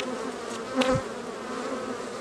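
Angry honeybees buzz steadily and close during a hive split, forming a dense, continuous drone with one brief louder pass.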